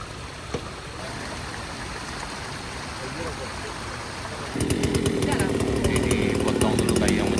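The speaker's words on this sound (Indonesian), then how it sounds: "Ini dipotong dulu kayu yang menyangkutnya." A chainsaw cuts through wood snagged by flood debris after a deadly mudslide at Ngalau Gadang, Pesisir Selatan, starting partway through as a steady, fairly loud buzzing over rushing water and background murmur.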